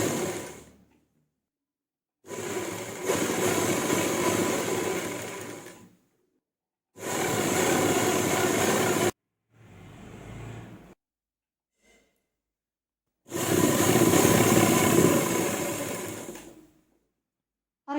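Sewing machine runs in three separate bursts, each a few seconds long with short pauses between, as piping is stitched onto the edge of a dupatta; a quieter softer sound comes between the second and third runs.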